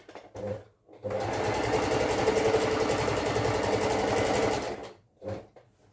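Sewing machine running a straight stitch while hemming, a steady, rapid mechanical whir lasting several seconds, bracketed by brief bursts of stitching and handling noise at start and end, close up, with no talking.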